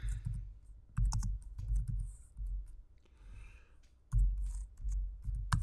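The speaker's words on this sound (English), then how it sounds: "So let me go ahead and over here I'll type in tax rate." Keystrokes on a computer keyboard in quick, irregular bursts of clicks with short pauses between groups, close and fairly quiet.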